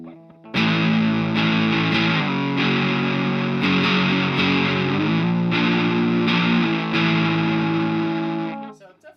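An electric guitar with a single-coil pickup runs through an Earthquaker Devices Sunn O))) Life Pedal with the distortion fully up into a solid-state amp: loud, muddy, saturated chords ring out continuously, shifting every second or so before cutting off.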